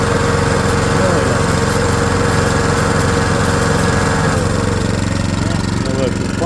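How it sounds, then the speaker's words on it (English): ATCO Balmoral 14SK lawn mower engine running close by, a loud steady mechanical drone with a slight change in tone partway through, with someone talking over it. "that should make the engine spin"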